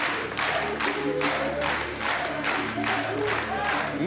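A game show studio audience cheers and applauds a contestant on the French show À prendre ou à laisser, with loud crowd bursts rising and falling in rhythmic waves of clapping and shouting.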